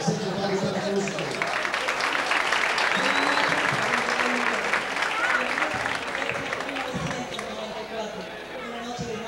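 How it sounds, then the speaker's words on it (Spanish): Audience applause welcoming the opening of a 1994 gay pageant, Miss Universo Gay Relax, a steady crowd roar of clapping with some chatter and background voices, sustained throughout and tapering slightly near the end. "Recibamos con un fuerte aplauso este gran evento."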